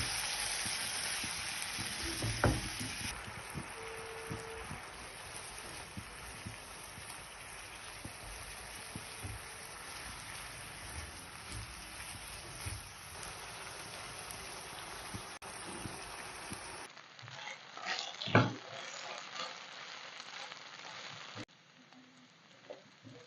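Marinated chicken fries in hot ghee in a pan, giving a steady, soft sizzle with a few crackles and pops, quiet and close, fading as the pan settles near the end.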